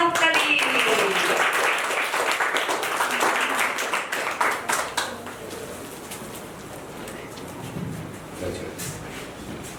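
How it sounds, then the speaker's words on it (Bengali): An audience claps loudly for a 16-year-old boy receiving a gift at a Barasat ashram clothing distribution, dense clapping in the first half that thins out into scattered claps and room murmur. "ঈশানের জন্য জোরে হাততালি।"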